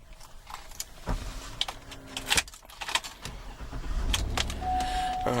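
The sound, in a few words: 2011 Cadillac Escalade SUV being started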